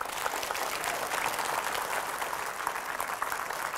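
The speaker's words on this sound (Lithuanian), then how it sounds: "Pasveikinkim, laikykitės ten viešinę audringais plojimais" A studio audience greets a guest, civic activist and independence act signatory Nijolė Oželytė, with sustained, dense applause on a Lithuanian talk show, steady and loud throughout.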